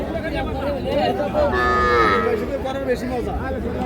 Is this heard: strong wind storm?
no